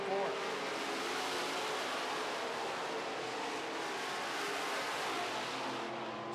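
Midwest modified race cars circle a track, their engines blending into a faint, continuous distant roar with no distinct passes standing out.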